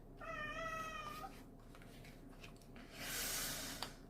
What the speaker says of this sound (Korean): 저희 고양이가 시작과 동시에 우네요.